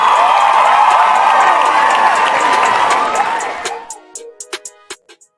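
A prerecorded applause track for a live online show plays as dense, steady clapping and cheering, then thins out into a few scattered, separate claps before stopping.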